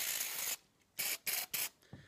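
Cleaner sprayed from an aerosol can into the receiver of a Saiga 12 shotgun: a long hiss, then three shorter bursts and a faint trailing one, close and alone.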